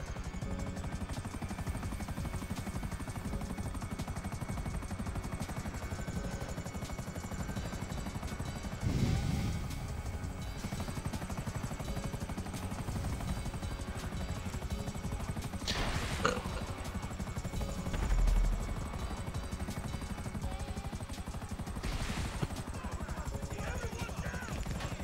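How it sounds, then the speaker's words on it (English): A video-game helicopter drones steadily throughout with a constant high whine, its level holding even with a few brief louder bumps along the way. "Is your helicopter dying?"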